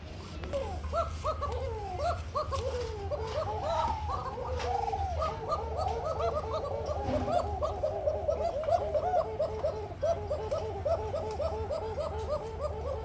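Pigeons for sale, including white Paushiraj birds, coo steadily in a chorus of overlapping low, rolling calls at moderate volume over a constant low hum, with no clear talk.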